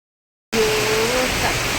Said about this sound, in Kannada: ಜೋರು ಮಳೆ ಶುರುವಾಯಿತು ನೋಡಿ.